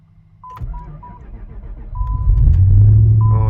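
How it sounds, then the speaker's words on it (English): An Infiniti Q45 cranks and fires in cold weather, a few electronic chimes sounding first, then the engine catches and settles into a loud, steady idle close by. "I'm about to warm up the car."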